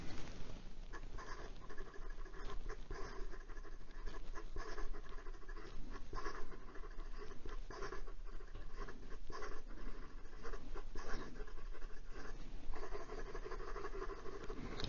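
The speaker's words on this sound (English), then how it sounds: "And some quick writing." Fountain pen nib, an Acme Frank Lloyd Wright model, scratching quickly across paper in steady, close, soft strokes with a continuous dry patter and no talking.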